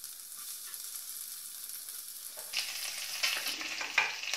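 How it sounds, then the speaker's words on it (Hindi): Finely chopped medium onion dropped into a hot pan for millet upma, giving a steady close frying hiss that swells into louder crackling sizzle over the last couple of seconds, with no talk. "अब इसमें एक मीडियम साइज का बारीक कटा हुआ प्याज डालेंगे।"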